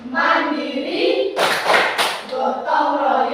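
Standing classroom children chant the PPK cheer, their unison young voices broken by a sharp burst of rapid hand clapping in the middle, loud and near.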